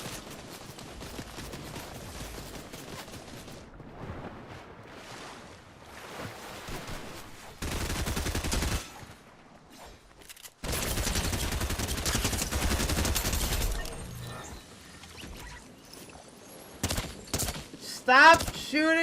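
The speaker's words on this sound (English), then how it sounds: "Stop shooting me!" Rapid video game gunfire crackles in dense bursts during a chaotic multiplayer match, broken by gaps and mixed with excited voices talking and shouting over the shooting.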